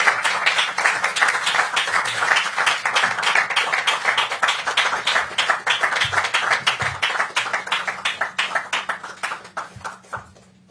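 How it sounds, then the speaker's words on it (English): An audience in Philadelphia gives a sustained round of applause for Nobel laureates Karikó and Weissman, dense close-up clapping that holds steady and then thins out toward the end. "maybe we can give them one more round of applause"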